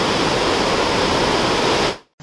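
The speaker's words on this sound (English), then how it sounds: "In a waterfall." Steady, dense roar of rushing water, loud and continuous, cutting off abruptly near the end.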